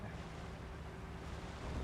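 A steady wash of wind and rushing water, like a boat moving briskly across a river with fan-driven wind in The Legend of Zelda: Tears of the Kingdom, with no voices.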